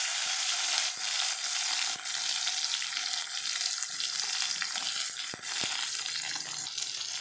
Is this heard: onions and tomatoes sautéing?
yes